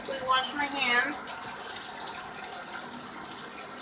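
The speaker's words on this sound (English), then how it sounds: "quickly wash my hands." A kitchen faucet runs steadily as hands are washed while making fry bread, a constant close hiss beneath brief talk at the start.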